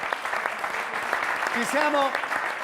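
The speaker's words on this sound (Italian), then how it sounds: "Bravo Beppe, ti facciamo un grande applauso" An audience claps for Beppe during a comedy show interval, a short steady round of applause with a voice speaking briefly over it.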